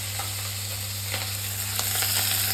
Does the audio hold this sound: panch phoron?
yes